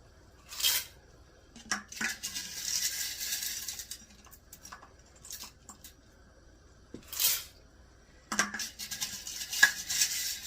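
Dry noodles are tipped into a pot of boiling chicken soup broth, giving scattered rustling pours and soft clinks against the pot, with quiet gaps between bursts.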